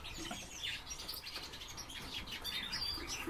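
Tree pipit (Anthus trivialis) gives short, thin chirping calls at a quiet distance, repeated irregularly against a faint outdoor background.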